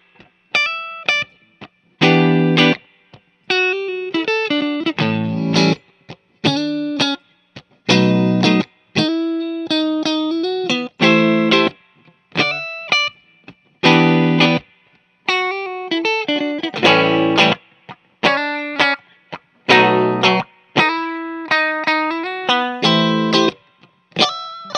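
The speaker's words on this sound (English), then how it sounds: "I've got the S1 switch off now, so we're just gonna go through it like a regular Stratocaster." A 2019 American Ultra Stratocaster electric guitar plays clean short chords and arpeggiated phrases in bursts with brief pauses, bright and close, with a light chorus shimmer.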